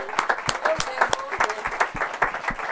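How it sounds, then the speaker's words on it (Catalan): Scattered applause from a small group at a book fair event, individual claps clearly audible in an uneven rhythm, with voices chattering underneath. "un aplaudiment"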